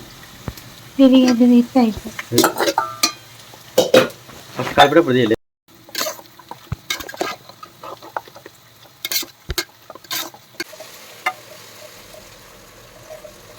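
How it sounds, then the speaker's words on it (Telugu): Chicken is fried and stirred with mint and coriander in a pan, with a spoon scraping and clattering in bursts against a faint sizzle, as a person talks in between. "ఇక్కడ పుదీనా కొత్తిమీర వేసి కలుపుకొని తర్వాత చికెన్ వేసేసాను నేను"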